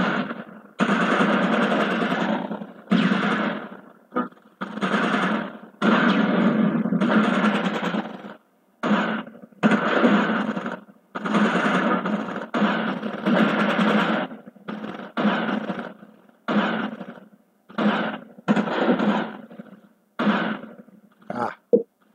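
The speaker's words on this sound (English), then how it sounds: "Got some mortars left, so let's fire them." Mortar fire in the World War II strategy game Close Combat, heard as a long series of loud, harsh bursts separated by short gaps in an irregular rhythm, with no voices.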